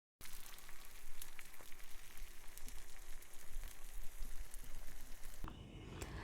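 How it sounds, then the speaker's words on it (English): Steady crackling sizzle of tomato and spices sautéing in a hot pan, continuous and fairly close, with a brief shift in tone near the end. "saute till tomato becomes soft and mushy"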